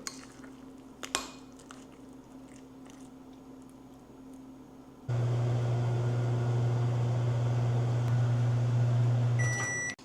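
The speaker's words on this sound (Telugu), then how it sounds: "దీన్ని మళ్ళీ కలిపి ఇంకోసారి కూకోబెడదాం మైక్రోవేవ్లో" A microwave oven running while cooking scrambled eggs with butter: a quiet background hum, then a steady loud droning hum with a low mechanical buzz once heating starts, ending with beeps.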